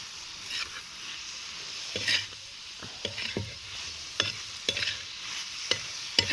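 A vegetable dish is stirred and fried on a hot iron griddle, giving a soft, steady sizzle broken by repeated sharp scraping strokes of the spatula, with no one talking.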